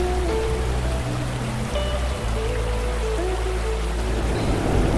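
A waterfall in Glen Nevis, Scotland, gives off a continuous rushing, splashing flow that stays steady and fairly close, with no voices heard.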